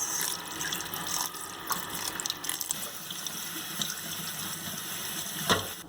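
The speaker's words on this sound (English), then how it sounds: "And then I am just gonna run cold water over my noodles." Cold water runs from a kitchen tap over strained, cooked chow mein noodles in a sink, a continuous splashing rush with a few sharper spatters, close and steady, no voices.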